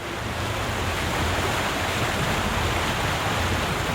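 Steady ocean waves and breeze on a ferry deck off Manila in the Philippines form a loud, continuous wash of surf and wind noise.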